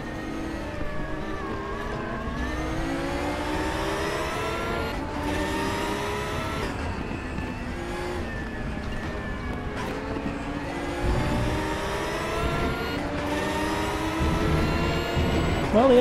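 GT3 race cars in the RaceRoom racing game at the Hungaroring accelerate and rev through the gears, rising engine whines layered over each other at moderate level, with a race commentator talking throughout.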